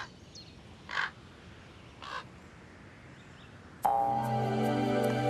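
Ravens calling while feeding begging young in an Alpine valley: two hoarse caws a second apart, then a sustained, tonal begging call from close by.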